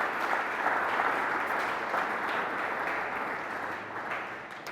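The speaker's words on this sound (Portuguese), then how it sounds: "aplauda fortemente o nome do Senhor Jesus." A church congregation applauds loudly and steadily throughout, a dense wash of clapping with no voices standing out.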